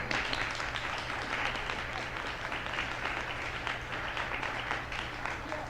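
Steady applause from an audience at a women's history week panel, filling the whole stretch at an even, moderate level with no break.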